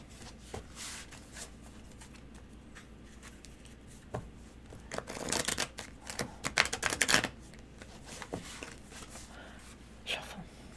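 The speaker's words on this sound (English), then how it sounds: "Shuffle." Tarot cards shuffled by hand during a live reading, a run of soft riffling and flicking bursts that swells to a dense flurry midway, faint and close with a little breathy noise around it.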